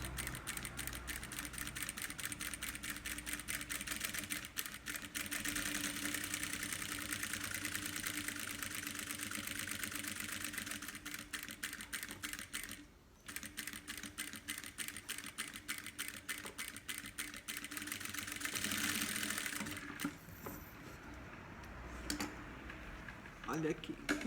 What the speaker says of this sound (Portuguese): costurinha de pezinho de máquina